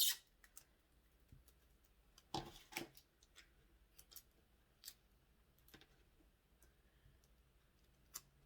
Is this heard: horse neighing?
no